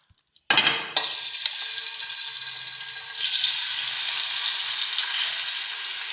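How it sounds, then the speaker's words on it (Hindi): Marinated chicken dropped into hot oil in a pan, bursting into a loud, steady sizzle that swells again partway through, with faint stirring and utensil clatter and no talking. "अब एक पैन में ऑयल लिया और इसमें मैं ये सारा चिकन डाल"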